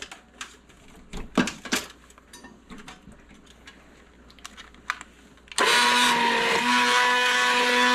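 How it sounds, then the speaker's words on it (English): An immersion blender starts up partway through with a loud, steady whirring hum, puréeing cooked apples, following a few scattered clicks and clatters in a quiet kitchen. "I'm gonna add my emulsion blender"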